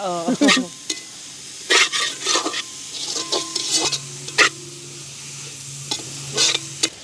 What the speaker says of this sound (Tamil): அப்படியே நல்ல வடிவாக பிரட்டி விடணும்